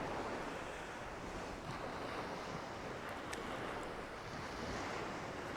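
Waves break steadily on the beach at Overstrand, Norfolk, a continuous faint wash of surf with wind noise and no voices.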